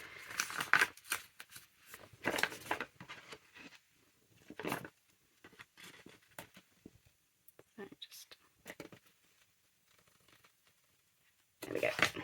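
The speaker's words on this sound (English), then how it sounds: "getting stuck with the scissors" Scissors snip and crunch through paper bags in uneven bursts, close up, with soft whispered talk in between the cuts.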